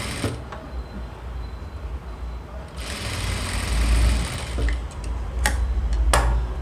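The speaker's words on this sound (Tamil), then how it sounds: "பார்த்திங்கனாக்கா இப்போ நெக்குக்கு தைக்கிறோம்." A sewing machine runs while the neckline of a three-year-old girl's frock is being stitched, its soft rhythmic whirr and ticking steady at close range, rising slightly in the second half with a few brief clicks.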